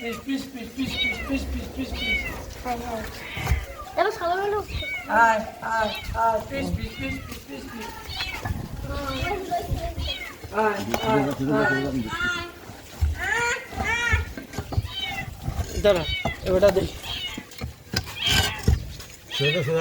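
Several high kitten meows, some thin and wavering, repeat among children's excited chatter and adult voices during a kitten rescue, with the meows close and fairly loud throughout.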